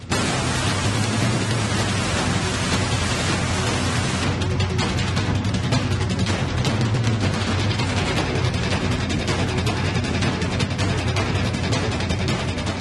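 Loud, dense wind-driven rain in Bengaluru pours steadily as an unbroken roaring hiss that fills the whole stretch without a pause.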